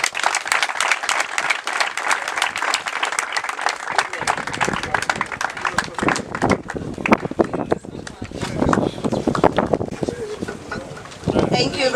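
An outdoor crowd at a youth football summer camp opening ceremony claps for a professor, brisk, uneven applause with individual hand claps standing out, birds cooing faintly in the background.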